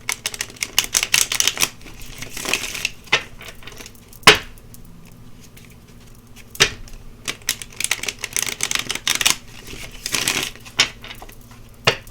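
Sharp clicks and slaps of cards being shuffled and handled, in bursts with brief pauses, close and fairly quiet.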